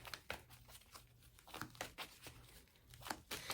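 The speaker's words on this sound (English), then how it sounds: "I need to just shuffle my cards." Quick, crisp riffling bursts of cards being shuffled, several rapid flutters in a row, close and fairly quiet.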